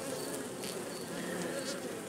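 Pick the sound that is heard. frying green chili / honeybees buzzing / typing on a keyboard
honeybees buzzing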